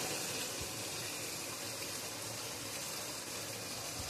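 Water is poured into a simmering fish curry masala, making a steady, fairly faint rushing gush that stays even throughout.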